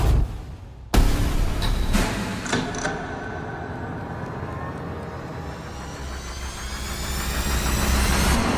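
A V8 engine on a dynamometer cranks with a sharp start, then settles into a steady, loud running drone that builds slightly toward the end, close and continuous with no talking.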